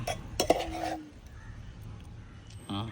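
A metal lid clinks onto a pan while prawn roast cooks, a short cluster of bright metallic knocks and a ringing tone, then quiet kitchen background with a brief clatter at the end.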